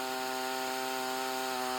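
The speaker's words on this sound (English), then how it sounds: "so that way I can keep sawing down the cant" Sawmill blade cutting down a cant of zebra maple lumber, a steady continuous whine with a sustained grinding hum, close and even throughout with no talk.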